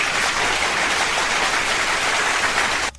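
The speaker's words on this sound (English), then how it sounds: "ladies and gentlemen. Round of applause." A studio audience's round of applause, a dense, loud, even wash of clapping that holds steady for about three seconds and then cuts off abruptly.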